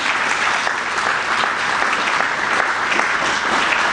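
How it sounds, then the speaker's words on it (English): Steady, full round of applause from an audience at a political gathering, dense clapping holding evenly for several seconds with no voices over it. "Let's give George a nice round of applause."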